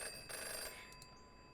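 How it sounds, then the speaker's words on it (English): A telephone rings in a visual novel scene, a short electronic trill heard in two quick bursts over a quiet rainy backdrop. "The phone interrupted my thoughts"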